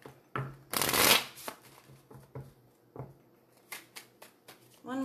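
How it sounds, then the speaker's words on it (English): Tarot cards riffle and shuffle in several brisk bursts, with softer slides and taps between them, close up and fairly loud. "One more shuffle, guys."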